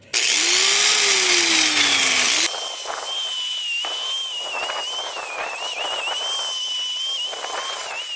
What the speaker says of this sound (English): again using my angle grinder for speed and efficiency